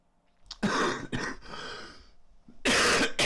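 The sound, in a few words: person coughing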